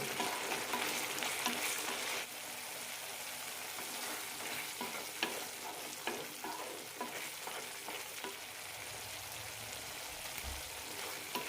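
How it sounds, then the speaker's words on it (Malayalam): Tomato pickle sautéing on a high flame, with a loud continuous sizzle, repeated scraping stirs, and a brief drop in intensity early on. "ഹൈ ഫ്ലെയിമിലിട്ടാണ് വഴറ്റിയും കൊണ്ടിരിക്കുന്നത് അപ്പോഴാണ് പെട്ടെന്ന് വെള്ളം വെറ്റി കിട്ടുള്ളൂ"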